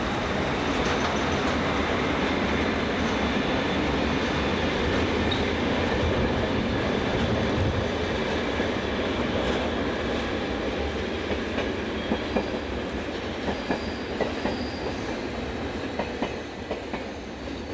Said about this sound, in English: as the loco departs Alton Station with a train from Brugge to Basel